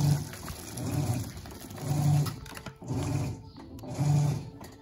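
An Electrolux Blue Touch 12kg LB12Q washing machine agitating a load of bath towels in hot water, a low rhythmic churning that swells and pauses in regular strokes about once a second, steady and close.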